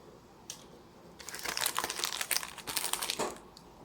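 A Beyblade Burst sticker sheet crinkles as it is handled, a close, busy rustling that starts softly and grows into a dense stretch of crackles, with no talking.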